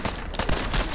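Dense, continuous burst of gunfire from the video game Fallout 4, loud and close throughout the short moment with no talking over it.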